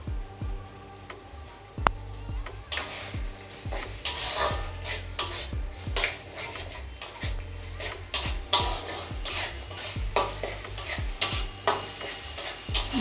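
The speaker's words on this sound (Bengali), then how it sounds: "মশলাগুলোকে ভালোভাবে মিশিয়ে নিয়ে" Spices mixed with dry chilli powder and chopped coriander stirred in a pan for Bengali katla fish kalia, with steady scraping strokes and clinks over a soft sizzle, close and fairly loud throughout.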